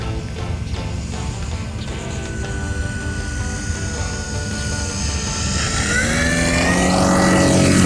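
A small radio-controlled model propeller airplane drones steadily, its engine pitch shifting as it swoops low in a touch-and-go landing and then climbs away, growing louder toward the end.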